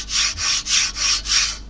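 The rough pressed-steel sole plate of an Evolution circular saw rubbed back and forth right at the microphone, making five loud, gritty sandpaper-like strokes in a steady rhythm.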